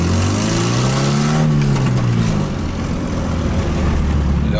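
Loud and close, a Nissan 240 SX engine revs, its pitch climbing through a gear and then dropping, followed by a steady droning cruise with road noise and no talking.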